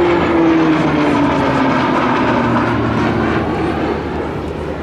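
A TBM 700 turboprop flying a display at the Breizh Airshow 2024, a loud continuous engine roar with a slowly falling whine as it passes, fading slightly toward the end.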